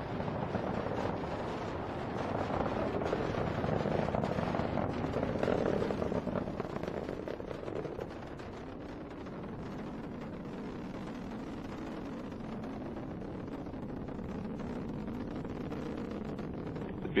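A SpaceX Falcon 9 rocket climbing after liftoff with a Dragon capsule, a distant broad crackling roar that is strongest early then settles to a steadier, fainter rumble.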